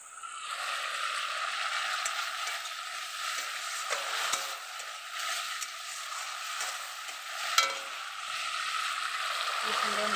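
Spice paste frying in oil in a pan, a steady bright sizzle with occasional stirring scrapes, close and continuous throughout.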